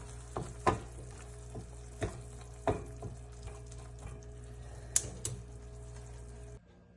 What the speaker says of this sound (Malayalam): ഒരു നുള്ള് പഞ്ചസാര ഇട്ടൊന്ന് ഇളക്കിയിട്ട് നമുക്ക് ഓഫ് ചെയ്യാം